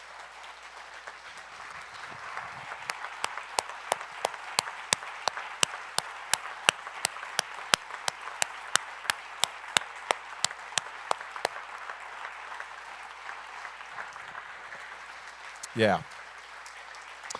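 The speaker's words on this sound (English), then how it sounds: "let's honor this couple right now and give them a huge, huge round of applause" A church congregation gives a long round of applause for a couple, steady clapping from a crowd with a few sharp individual claps standing out, fading after about twelve seconds, with a brief spoken word near the end.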